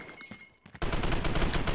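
Gunfire in the online shooter game Roblox Phantom Forces, a sudden loud burst of rapid automatic fire after quieter game sounds, sustained and dense to the end.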